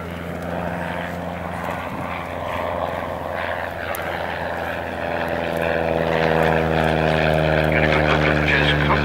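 A two-seat Miles Whitney Straight propeller aircraft drones loudly and steadily close by, its engine pitch rising and swelling toward the end.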